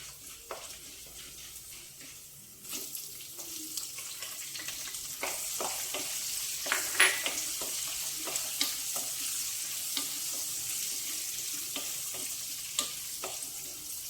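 Onion, green chili and curry leaves fry in a pan of beans and moong dal, a constant hiss punctuated by repeated sharp spatula scrapes and taps, getting louder after the first few seconds, with no talking.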